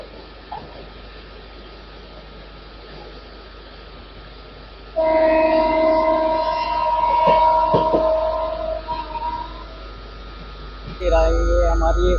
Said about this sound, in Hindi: ये हमारी बिहार संपर्क क्रांति